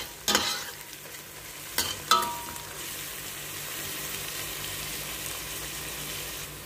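Chicken curry with ginger stirred in a pan over a steady soft sizzle, with three sharp utensil knocks and scrapes near the start, then an even frying hiss, no speech.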